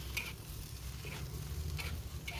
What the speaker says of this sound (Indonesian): setelah itu masukin gambas jamur